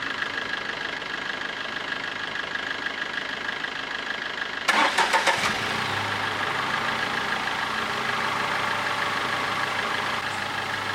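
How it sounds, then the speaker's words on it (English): A Tata Tiago XZA with a dead battery, jump started, cranks briefly with rapid loud chugs, catches, and settles into a steady, close engine idle. "Now I'll head up and start the car with the dead battery."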